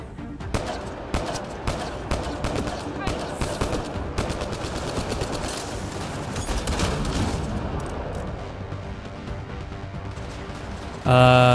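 Shotgun fire in Mass Effect Andromeda: repeated sharp blasts in a busy firefight over game noise, with a loud burst right at the end.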